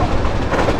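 Cable car train rolling in Resident Evil 3, a steady loud rumble with dense clattering rail noise filling the whole moment, without any voices.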